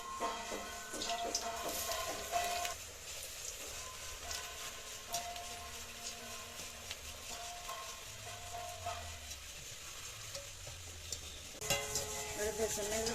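Sat puri frying in hot oil, a faint continuous sizzle with occasional clinks and scraping of a utensil, quiet and close.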